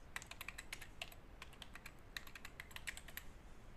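Computer keyboard typing while setting up DNS in WHM cPanel: rapid, irregular key clicks in short bursts, close and fairly quiet, with no voices.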